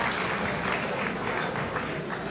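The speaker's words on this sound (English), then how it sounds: "A round of applause for Quiriña Opera, ladies and gentlemen." An audience claps for the Quiriña Opera group at a parade event, a dense, steady wash of applause at moderate distance with no talk over it.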